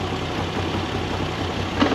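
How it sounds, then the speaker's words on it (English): Steady, loud, close engine rumble from a Moto Guzzi V85TT motorcycle idling while stationary, with a low uneven throb throughout and no speech. "I suppose it's just a characteristic of the engine, it feels quite lumpy when you're stationary."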